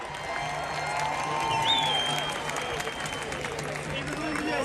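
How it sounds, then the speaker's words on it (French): An outdoor crowd at a solar eclipse event in a Montreal park applauds and cheers, a broad wash of clapping and voices somewhat distant and moderate in level, with whistle-like tones rising above it. "Oui, il mérite toute une main d'applaudissements."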